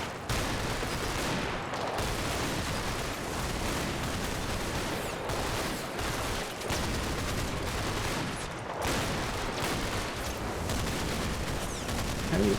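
A flamethrower roars steadily in the World War II strategy game Combat Mission: Battle for Normandy, a dense, unbroken rushing blast with brief dips, loud and continuous throughout.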